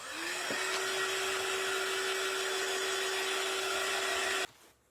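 A handheld dryer blows over wet paint on a wooden stencil sign, a steady close whirring hum that runs for about four and a half seconds and then cuts off abruptly.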